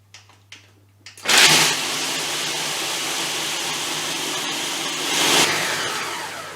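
A food processor blending chocolate and cream sandwich cookies roars to life after a few small clicks, holding a loud steady whir for several seconds with a slight surge near the end.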